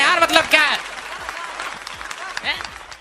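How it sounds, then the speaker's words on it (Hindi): An audience claps at a Hindi comedic poetry show, a short burst of applause mixed with a voice speaking over it. "ताली बजाओ"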